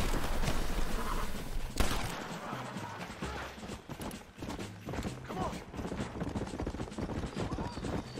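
Hooves of a horse clip-clop steadily in the video game Red Dead Redemption, a rhythmic clatter mixed with creaks, bursts of gunfire and other dense game noise throughout.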